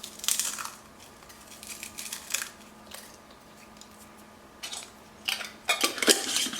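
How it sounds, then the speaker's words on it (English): Freeze-dried peppers tumble into homemade vegan ramen as sharp, crisp crunchy clatters in a few bursts, separated by quiet gaps and ending in a denser cluster of rattles. "I'm gonna add in a couple of the freeze-dried peppers"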